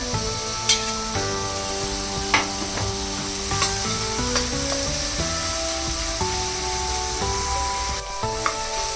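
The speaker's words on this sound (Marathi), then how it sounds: "कांदा परतण्यासाठी टाकूया" Finely chopped onion sautéing in a pan for pav bhaji, a continuous close sizzle with scraping stirs, heard alongside sustained tonal music in the background.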